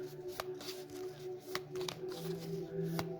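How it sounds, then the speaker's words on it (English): A deck of treasure chest cards from the board game Dungeon Crusade being shuffled by hand, with crisp riffling snaps and card slaps in quick bursts, close and clear. "Let's give it a quick shuffle."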